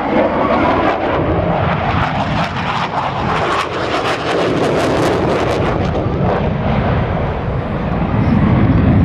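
An FA-18 Hornet jet flies a demonstration flight, its loud engine roar swelling and sweeping overhead. Gusty wind buffets the microphone throughout.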